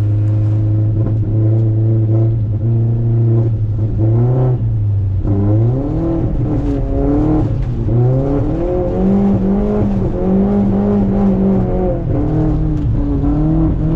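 A car, an Audi S3, drifts on an icy track with its engine loud and close throughout, the pitch dropping and then climbing again in repeated revs as the throttle swings, with no talk.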